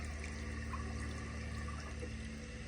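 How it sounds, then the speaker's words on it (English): A 2018 American Standard Townsend Vormax toilet bowl filling with water gives a steady, quiet rushing hiss that holds evenly throughout, with no voices. "now I'm gonna let the bowl fill up with a little bit of water"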